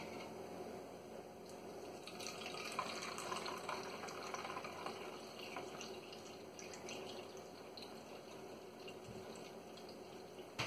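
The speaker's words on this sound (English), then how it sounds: "just funnel it into your bottle" Liquid dish soap is funneled into a bottle at a kitchen sink, giving a soft, continuous trickling pour with faint drips, quiet and close.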